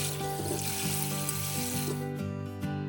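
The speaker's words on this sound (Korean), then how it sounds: "이제 흐르는 물에 꼼장어를 깨끗하게 씻어주세요" Hagfish being rinsed under a running kitchen tap, a steady close rush of water with faint handling underneath and a background tone, the flow thinning near the end.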